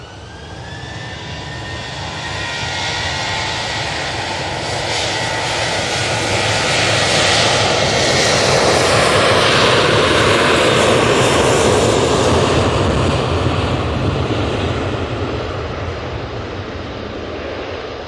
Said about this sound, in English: This TUI 737-800 is off to Rhodes